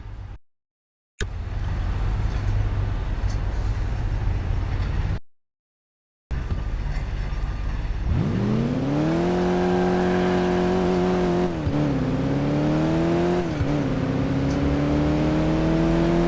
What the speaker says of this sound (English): We're driving to the airport now.